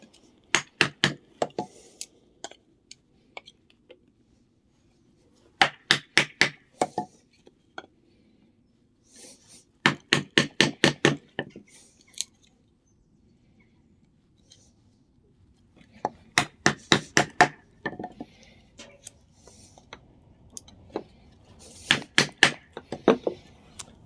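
Mallet blows driving a small knife blade through a piece of wood, coming in several bursts of rapid sharp knocks separated by quiet pauses.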